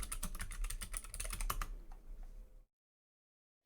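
Quick, close keystrokes clatter on a computer keyboard in a rapid run for about two and a half seconds, then stop into silence.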